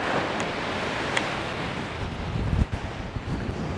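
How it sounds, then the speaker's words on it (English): Rough sea with roughly five-foot waves crashes onto the shingle of Chesil Beach, a continuous surging wash under strong gusty wind buffeting close by, no speech. "We've got probably 5 foot waves now."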